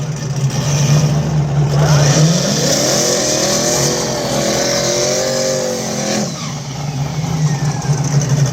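Turbocharged LS-swapped Ford Fairmont drag car in a 5.30 outlaw small tire class at Mooresville, a loud engine revving up and holding, then dropping back to a rough idle.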